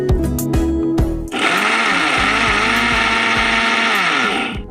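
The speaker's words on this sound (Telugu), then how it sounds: "ఇది చక్కగా బరగ్గా నేను మిక్సీ పట్టేస్తాను" A mixer grinder whirs loudly as it grinds roasted ingredients into powder, starting after a second of short clattering bursts, then holding a steady high motor roar with faint rhythmic knocking of contents inside the jar.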